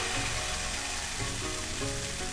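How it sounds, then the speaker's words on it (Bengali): Rice-flour batter for patisapta sizzles steadily in hot ghee in a pan, a dense continuous frying hiss with faint stirring or scraping touches. "এবার আমি ব্যাটারের থেকে এক হাতা ব্যাটার নিয়ে নিয়েছি নিয়ে মিডিল পোর্শন করে দিয়ে দেবো"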